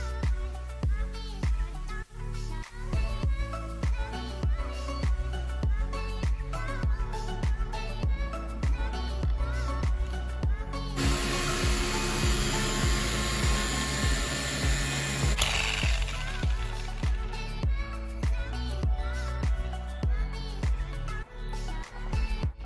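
A power polisher buffs old OEM Pontiac Fiero taillights, a steady whirring drone with rhythmic pulsing as it moves across the lens, rising into a brighter, harsher hiss for several seconds partway through.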